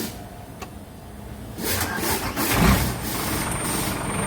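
Car engine cranking and catching with help from a YESPER N1 jump starter, a quiet stretch before a burst of starter noise settles into a close, rough running idle.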